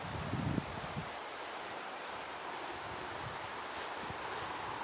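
Crickets chirping in a continuous high, dense drone outdoors near a river, steady and fairly faint, with occasional soft rustles and no talking.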